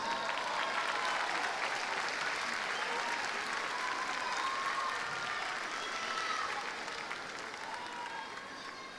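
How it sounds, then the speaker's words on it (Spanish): Sustained applause from an audience at a tribute event for Luis, broad and even throughout, heard from a moderate distance and easing slightly toward the end. "Le damos un gran aplauso"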